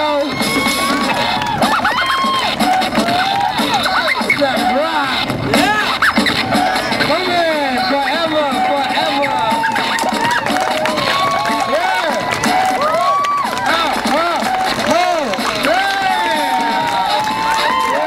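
Street crowd at a breakdance show on Robson in Vancouver, with continuous clapping, cheering, whoops and children shouting, loud and sustained throughout and mixed with voices calling out.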